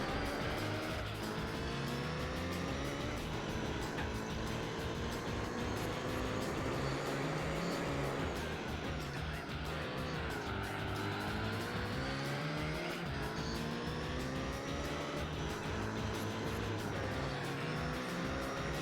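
A Sauber race car in the video game Gran Turismo 4 roars continuously, its engine pitch climbing and falling through repeated gear shifts, with occasional tire squeal, loud and alone.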